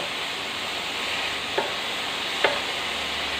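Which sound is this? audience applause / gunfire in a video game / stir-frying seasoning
stir-frying seasoning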